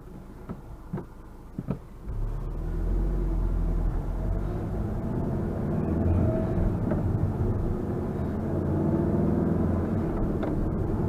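A Volkswagen Golf R pulls hard in third gear from 3,000 rpm, its engine swelling from a lighter hum into a loud, steady low-pitched drone with road rumble that continues without a break.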